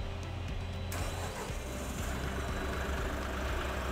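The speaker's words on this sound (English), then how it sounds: "we can go ahead and start the engine." The engine of a Condux Blue Ox machine starts up and settles into a steady, loud, continuous running drone, close by, with no talking.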